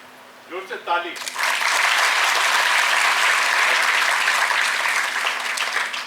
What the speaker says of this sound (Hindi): जोर से ताली।